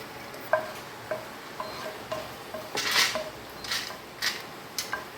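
Seeds roast in a pan over a very low flame, giving small scattered ticks and clinks with a few louder scraping stirs, close and fairly quiet with no talking.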